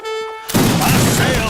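A loud musket volley in Age of Empires 3 erupts after a brief pause, a dense crackling fusillade of many overlapping shots that continues to the end, with in-game voices present.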